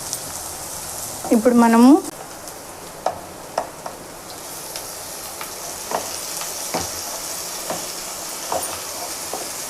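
Onions fry in a pan for a tomato and drumstick curry, a soft sizzle under a voice, broken by a brief squeaky scrape early on and scattered light clicks and stirs.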